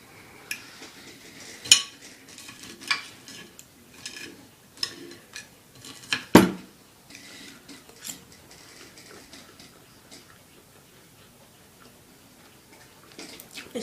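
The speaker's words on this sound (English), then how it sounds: "now we're going to dish it out on the plate" Scrambled eggs are scraped and dished from a pan onto a plate, a series of scattered metallic clinks and scrapes of utensil on cookware, one sharper knock midway, close and without talk.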